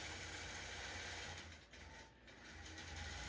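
A domestic sewing machine stitches quilt pieces together, its steady mechanical whir and rapid needle clatter running continuously with a brief slowdown midway before picking back up.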